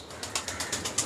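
A pair of Aparajita pigeons flap their wings at a pigeon market in Uluberia, Howrah: a quick, even run of soft fluttering beats, fairly quiet and close.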